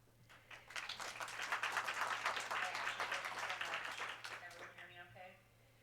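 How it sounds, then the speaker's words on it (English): Applause at an online academic workshop, a moderate round of clapping that swells quickly, holds for a few seconds, then fades away near the end, with a faint voice under it. "we should give a big round of applause"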